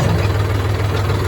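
A tractor engine chugs steadily with a low, knocking throb while pulling a rotavator through soil, heard close for a short moment.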